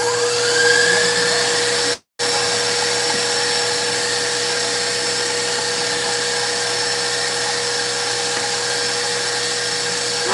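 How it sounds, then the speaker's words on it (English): An electric mixer whirs steadily, creaming butter and sugar for a cake with a constant high motor whine that stops for a moment and then resumes. "What we're doing right now is getting air into the butter and the sugar."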